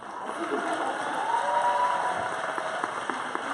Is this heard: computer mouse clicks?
no